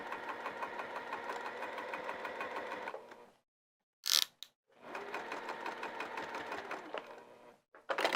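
A sewing machine stitches a heart-shaped fabric potholder in two long runs of rapid, even mechanical chatter, broken by a quiet pause and a brief sharp click, close and loud with no talk.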